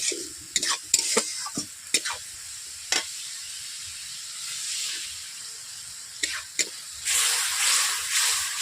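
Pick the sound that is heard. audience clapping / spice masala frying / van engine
spice masala frying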